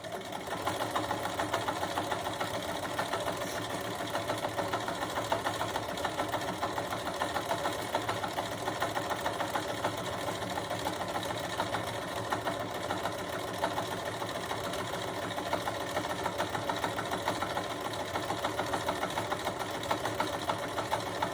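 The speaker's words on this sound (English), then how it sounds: "I can't really visit with you while I'm sewing because my machine is so loud." Loud domestic sewing machine stitching a quilted mug rug at an even, fast pace, a steady dense mechanical whir with rapid needle clatter running throughout, no voice over it.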